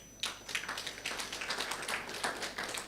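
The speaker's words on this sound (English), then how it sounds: "We clap hands to that one." A summit audience claps hands in a hall, a quiet, steady patter of many overlapping claps from a distance that keeps going for a few seconds.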